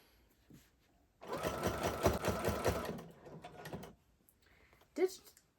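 A domestic sewing machine ditch stitches a Halloween quilt in one steady, rapid run of mechanical stitching lasting a few seconds, with quiet handling clicks before and after.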